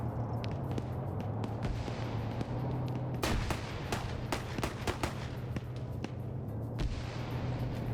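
Grenade explosions and gunfire in a multiplayer video game match, a run of sharp blasts and cracks clustered through the middle, mid-distance over a constant low rumble, with no talk.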